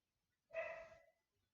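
A pet dog gives one short, clear bark indoors, standing alone in an otherwise quiet room.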